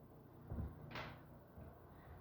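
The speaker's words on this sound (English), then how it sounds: "I like a good wood sliding door." An Andersen wood sliding door in a house being slid, a quiet low thump followed by a short soft rushing slide, then a faint knock.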